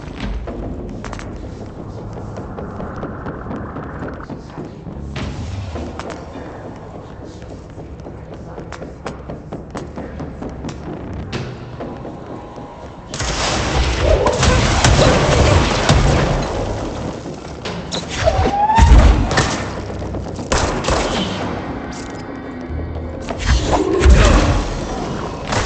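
Rockets flung back at enemies burst in the video game Control, a run of heavy thuds and booms that swells loud from midway amid constant combat noise.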